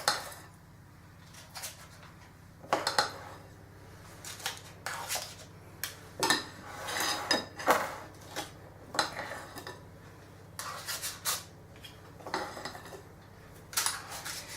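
A spoon scrapes and clinks against metal muffin tins while chocanana muffin batter is heaped into each cup, giving irregular close clatters and taps spread over the whole stretch.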